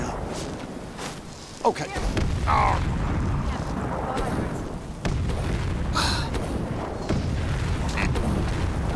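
A fire blast in the Skyrim video game, a booming whoosh that swells and rumbles steadily over a few seconds, while a voice shouts and talks over it.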